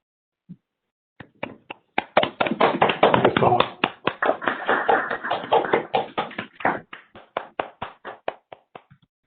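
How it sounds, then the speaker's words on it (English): Applause from participants in an online meeting after a talk comes through unmuted microphones as separate claps, starting sparse, building into a dense patter and thinning back to a few isolated claps. "invite everybody to unmute yourself so we can give Steve a nice applause"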